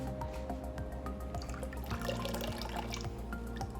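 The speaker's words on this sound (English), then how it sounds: "So I got my little lemon squeezer." Lemon juice squeezed through a small handheld lemon squeezer in a kitchen, with quick wet drips and small clicks falling in an irregular rhythm over a steady background hum.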